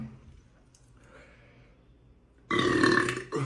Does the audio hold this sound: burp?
yes